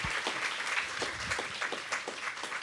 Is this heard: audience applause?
yes